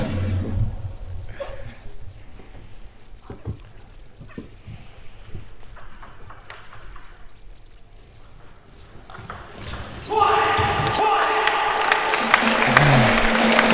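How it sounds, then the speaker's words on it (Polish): A volleyball crowd at a Polish SuperLiga match rises from near-quiet into a loud, sustained standing ovation. Broad clapping and cheering swell in the final few seconds and keep building. "Brawa dla obydwu zawodników na stojąco. Publika właśnie stała i bije brawa."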